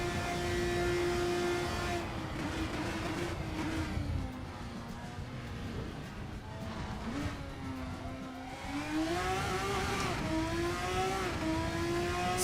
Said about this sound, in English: Sounds like a motorbike engine.